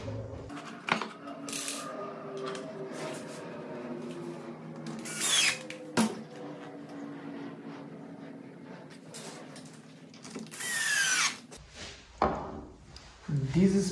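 A screw being driven to fix a wooden angle bracket in place, with intermittent bursts of driving and clicks. A person talks throughout the clip.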